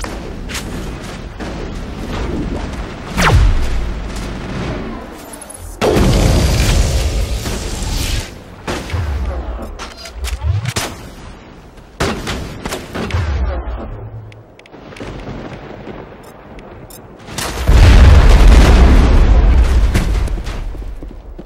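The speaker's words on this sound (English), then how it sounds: "Manovai is under coordinated crossfire. Check for long-range turrets helping the Geth target." Turret gunfire and heavy explosions in a Mass Effect battle on Virmire, loud booming blasts and bursts of shots rolling through the scene in repeated waves, with the heaviest explosion near the end.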